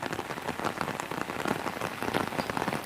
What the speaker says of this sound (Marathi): सगळ्यात मुख्य ज्याची उपस्थिती आहे तो म्हणजे हा पाऊस